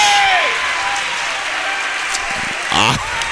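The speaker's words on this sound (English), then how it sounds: "The Platteview crowd doesn't like it." Basketball crowd at a Wahoo vs Platteview varsity game roars and claps in protest of a charge call, a dense sustained wash of noise with a whistle near the start and a louder burst of shouting toward the end.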